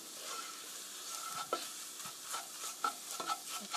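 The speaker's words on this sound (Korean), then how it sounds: "이렇게 골고루 밀가루가 잘 익도록 볶아주세요." Flour being stir-fried in a pan for a tofu cream sauce, with dry scraping stir strokes and light sizzling, several distinct scrapes against a steady low hiss.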